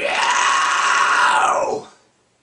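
A high-pitched vocal scream made by squeezing the throat muscles together, one sustained loud yell lasting almost two seconds and then cutting off into silence.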